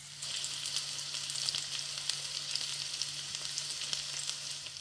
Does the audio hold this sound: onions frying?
yes